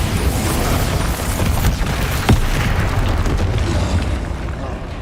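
A Bombarda blasting spell goes off in Hogwarts Legacy, a dense continuous rumble of booming explosion noise with one sharper crack in the middle, loud and full throughout.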